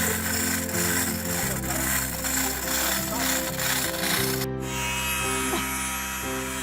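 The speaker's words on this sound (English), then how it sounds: "You're a braver man than me to have my foot next to that grinder." A power grinder works against wood, a loud, continuous buzzing whine that holds steady for several seconds before its pitch and tone shift partway through.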